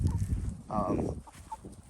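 A few chickens on a homestead cluck nearby, short and irregular, partly under a speaking voice.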